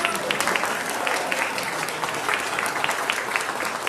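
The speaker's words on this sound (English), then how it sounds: "Can we please have a round of applause for our stars?" A crowd at an Active Aging Week opening ceremony applauds the stars of a stage game, a lively, close burst of many hands clapping with sharp individual claps standing out, continuing steadily.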